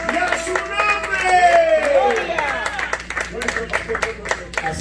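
A Pentecostal church congregation claps in sharp, scattered bursts while voices call out and sing loudly over the clapping, the hand claps sounding close and punchy beneath the vocal exclamations.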